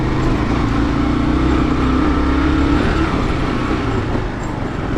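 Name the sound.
off-road vehicle losing traction on Rubicon trail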